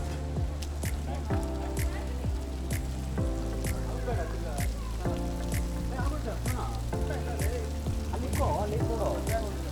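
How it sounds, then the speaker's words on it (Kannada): Heavy rain falls in a steady hissing patter, with a voice and tonal sounds layered over it throughout. "ತುಂಬ ಮಳೆ ಬೀಳ್ತಾ ಇದೆ. ಸಡನ್ನಾಗಿ ಮಳೆ ಬೀಳುತ್ತೆ, ಹಂಗೆ ನಿಂತೋಗುತ್ತೆ."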